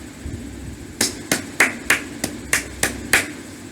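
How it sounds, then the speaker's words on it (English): Sharp, evenly spaced claps ring out alone, about eight in a steady rhythm, close and loud, from an audience at a motivational talk. "I will request to clap yourself as you have clapped for others many a time"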